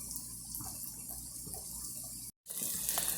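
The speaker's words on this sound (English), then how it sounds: "I rinsed that grater right off immediately" Tap water runs over a potato grater in a kitchen sink, a soft, steady splashing stream that cuts out for a moment and then returns slightly louder.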